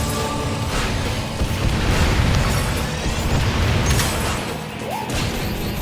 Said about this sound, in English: Now that weapon's more of a grenade launcher.